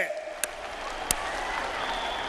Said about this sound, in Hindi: इन चीतों के सम्मान में ताली बजाइए।